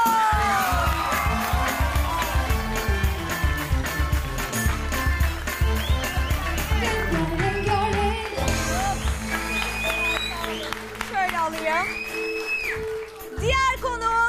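A television talk show studio audience welcomes a guest, clapping and cheering over loud, lively music. Rhythmic claps are strongest early and then give way to music and scattered cheers.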